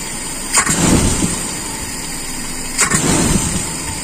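A motor vehicle engine runs steadily while being tested after a carburetor jet change, a loud continuous drone close by with two brief revving surges about two seconds apart.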